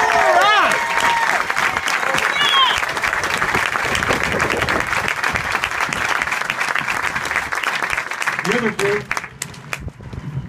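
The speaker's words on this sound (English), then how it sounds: "please join me in a round of applause for the Marines." Sustained applause from a large crowd in bleachers at a Devil Pups youth program graduation honoring Marines, loud continuous clapping with some voices rising over it, tapering near the end.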